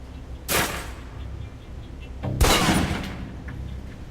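Two sharp, loud precision rifle shots ring out in Alpha Protocol, a couple of seconds apart, each followed by a short decaying tail over quiet room tone.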